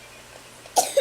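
A single sharp cough breaks out close by near the end of an otherwise quiet moment.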